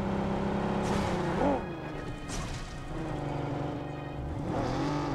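A vehicle driven in the battle royale game PUBG, its engine droning and shifting pitch, punctuated by loud crashing impacts and scraping thuds, with no talk.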